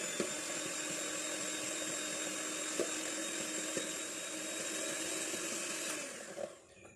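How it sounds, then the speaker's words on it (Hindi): An electric mixer beats one cup of butter for buttercream frosting, a loud steady whirring drone with faint clicks of the beaters against the bowl, winding down at the end. "इस बटर को हम बीट करना शुरू कर देते हैं"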